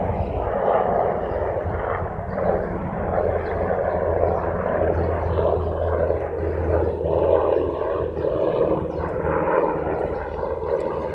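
A helicopter passes overhead, a steady, broad, fluctuating roar that rumbles throughout with no speech.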